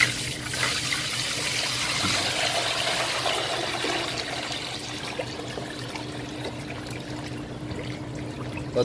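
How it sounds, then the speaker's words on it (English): Sanitized water poured from a bucket into the side of a shake machine, a steady rushing splash and trickle that fills the space for several seconds before gradually thinning out, with no voices. "We're gonna grab a bucket of sanitized water, and we're gonna actually just pour it into the right or the left side first."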